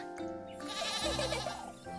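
A cartoon goat bleats in an animated fairy-tale story: one drawn-out, wavering call, close and fairly loud, with no speech over it.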